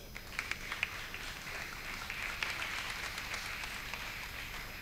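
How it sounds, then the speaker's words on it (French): An audience at a stand-up comedy contest applauds a comedian called to the stage, a steady wash of clapping heard from a distance with a few sharper claps near the start. "On l'applaudit s'il vous plaît."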